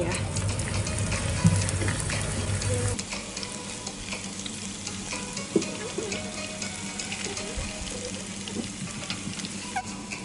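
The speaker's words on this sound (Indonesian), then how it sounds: "Terus itu aku goreng bayamnya dulu ya." Spinach fries in a pan with a steady, close sizzle throughout, broken by occasional scrapes and clacks of stirring.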